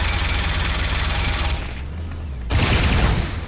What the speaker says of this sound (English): Acolytes get the Tiberium auto rifle.